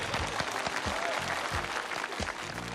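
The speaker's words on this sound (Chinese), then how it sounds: "听到掌声响起来" An audience claps on the stage of the Chinese debate show I Can I BB (奇葩说) season 7: a full, steady wash of applause, fairly close and sustained, with no break and no speech.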